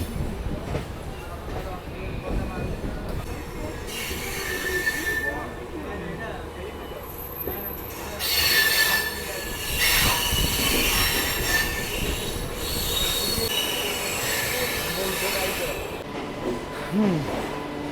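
A local train from Kolkata pulling into Puri railway station lets out long, loud, high-pitched wheel squeals that rise and fade over a steady rumble of rolling carriages, with voices talking underneath.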